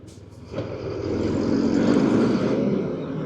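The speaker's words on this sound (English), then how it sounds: "That big truck accelerated and the exhaust comes out the side." A big truck accelerates close by in traffic in the Ivory Coast, its side exhaust giving a loud, steady low roar that swells after a brief quieter start and holds to the end.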